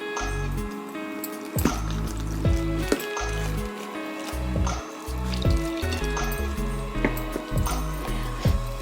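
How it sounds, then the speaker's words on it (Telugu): Besan dosa batter is stirred with water in a bowl, a wet, squelching rhythm of repeated spoon strokes with soft drips, close and moderate in loudness. "ఇప్పుడు వాటర్ వేసుకొని కలుపుకుందాము."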